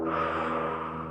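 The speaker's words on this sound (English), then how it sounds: "breathe in through the nose and out through the mouth" A single long inhale through the nose during a fascial maneuver exercise class, a steady breathy rush lasting about a second, close and clear with no talking.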